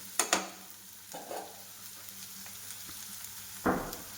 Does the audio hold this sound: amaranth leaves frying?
yes